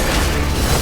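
A bomb going off in Genshin Impact, a dense continuous roar of explosion noise filling the whole short moment at high loudness, no voices on top.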